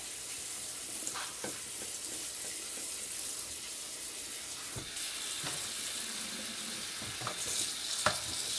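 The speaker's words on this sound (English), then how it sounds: "Rinsing them off and stirring them up at the same time" Cooked spaghetti noodles rinsed under cold running water while being stirred, a steady close hiss of water with occasional sharp clanks and scrapes from stirring.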